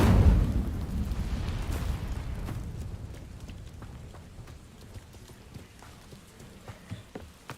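An Incendio fire spell is cast in Hogwarts Legacy, opening with a loud, close burst that decays into a fading rumble with faint crackles trailing over several seconds.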